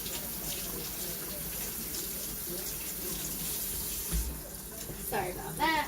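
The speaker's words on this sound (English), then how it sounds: "Just going to rinse my hands off really quick." A kitchen tap runs in a continuous close hiss as hands are rinsed under it while ribs cook, with slight splashing changes and a faint voice near the end.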